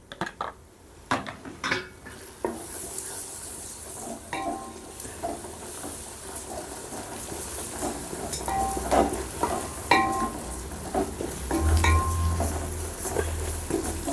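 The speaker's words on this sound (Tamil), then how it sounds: "இப்போ புதினா மல்லி ஒரு 2 நிமிஷம் வதக்கிட்டு மிளகாத்தூள் சேர்த்துக்கலாம்" Mint and coriander leaves sautéing in a pan for seeraga samba chicken biryani, a steady close sizzle with repeated stirring scrapes and metal utensil clinks against the pot, no talking.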